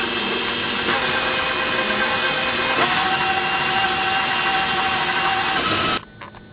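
An electric mixer runs loud and continuously, beating cookie dough of sugar, vanilla and salt for pecan shortbread, then cuts off abruptly near the end.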